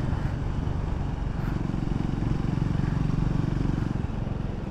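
A Triumph Scrambler 400X motorcycle rides along with a steady, loud engine drone and rumble close by, continuous throughout with wind noise and no distinct shift audible, no speech.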